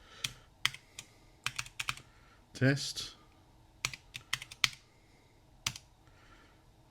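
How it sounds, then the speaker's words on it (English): Keys clicking on a new external keyboard for a Husky Hunter computer, sharp separate keystrokes in an uneven typing rhythm, close and fairly quiet, with a short burst of speech partway through. "Listen to that nice keyboard sound."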